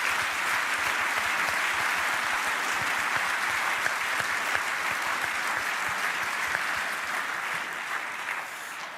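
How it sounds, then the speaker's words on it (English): Audience at the EFL Awards breaks into sustained applause, dense steady clapping from a large crowd filling the room without pause, loud and even throughout. "I just want to give everyone who's contributed to that a massive round of applause."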